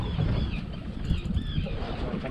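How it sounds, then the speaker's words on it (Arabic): A bird flapping its wings, a dense, rushing flutter that runs steadily through the whole stretch outdoors with faint chirps above it. "شوف قدامك وين طير فرفر عليه هناك ينافس قدام"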